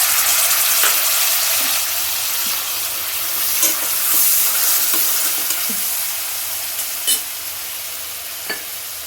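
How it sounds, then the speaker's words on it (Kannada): Chopped tomatoes with turmeric fry in a pan, giving a soft continuous sizzle with occasional stirring clinks and scrapes, fairly quiet and without talk. "ಅದನ್ನು ಹಾಕ್ಕೊಂಡು ಫ್ರೈ ಮಾಡ್ಕೊಳ್ತೀನಿ."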